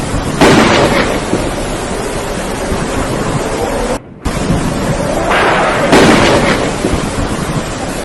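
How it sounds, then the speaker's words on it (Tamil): Thunderstorm with fire and hail as a dramatic sound effect: a dense, loud, continuous roar of pounding rain and wind with two rolling thunder surges, briefly cut off midway. "வானத்திலிருந்து நெருப்பும் கல்மழையும் பெய்து பயிர்களையெல்லாம் அழிக்கின்றது."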